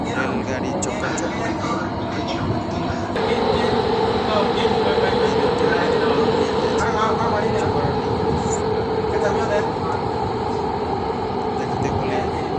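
Lusail line metro train in Doha running between stations, a continuous even rumble and whine from the carriage interior, with voices and onboard announcements over it.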